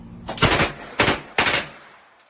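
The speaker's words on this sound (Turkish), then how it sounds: "Gerçek silahlar patlıyor bizden." Real firearms go off in three loud close bursts, each a sharp crack trailing into rapid echoing fire, spaced about half a second apart before fading.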